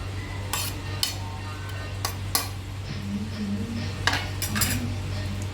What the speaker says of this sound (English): And I'll give a good mix without breaking the rice.